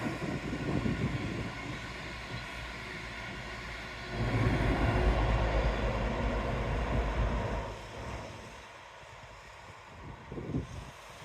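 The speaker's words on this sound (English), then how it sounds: "Hello, train." A train rumbles past at a distance in seaside Teignmouth, a broad low roar swelling for several seconds and then fading, with wind noise throughout.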